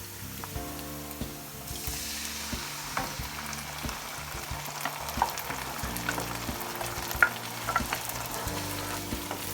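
Onions and tomatoes fry in a pan for chicken karahi while being stirred, giving a soft, steady sizzle with repeated scraping and clinking strokes, close and moderately quiet.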